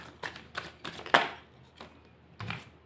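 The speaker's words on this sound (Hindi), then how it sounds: "कार्ड्स भी अपने आप निकल रहे हैं।" Tarot cards slip out of a deck as it is shuffled, making a few quiet, separate papery snaps and flicks spaced out over a couple of seconds.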